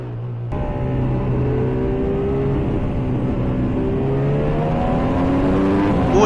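A Formula 1 race car on track, heard from the driver's helmet camera, with a loud, continuous high-revving engine whine that climbs steadily through the gears, close and dominant throughout.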